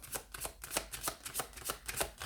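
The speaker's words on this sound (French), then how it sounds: "sur le mois de mai, un petit tirage de tarot" Tarot cards are shuffled by hand for a reading, giving quick rhythmic riffling bursts repeated about a dozen times in two seconds, close and fairly quiet.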